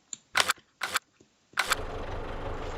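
Tractor engine starting in Farming Simulator 19: several sharp cranking bursts separated by short gaps, then the engine catches and settles into a steady, close low rumble, heard alone.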